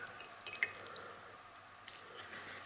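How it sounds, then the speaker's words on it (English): A soaked compressed towel is wrung out by hand, giving faint scattered drips and soft squishy clicks in a quiet setting, with no talking. "you're gonna wring it out a little bit. You don't want it dripping wet."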